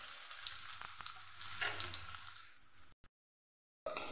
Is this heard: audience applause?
no